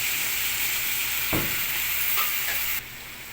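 Ingredients sizzle steadily in a hot pan with soy sauce and black soy sauce for pancit canton bihon, a continuous close frying hiss with a brief stir scrape midway, alone without talk.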